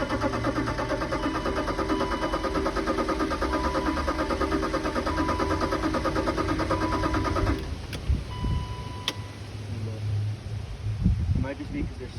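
BMW E34 Touring engine turning over and catching after a fuel tank install, with steady loud cranking and running noise for about seven seconds before it drops off; voices talk briefly near the end.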